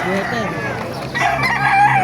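A rooster crows at a busy open-air chicken market in Baliuag, Bulacan, a strained call rising over steady crowd noise with a voice talking nearby.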